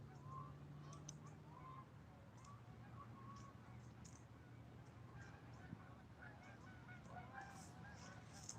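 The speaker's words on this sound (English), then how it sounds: "a lot of honkers around still. Probably like 60 of them flying away right now." Distant flock of Canada geese, around sixty birds, honking while flying away on a day of line watching, scattered calls over a steady low background rumble.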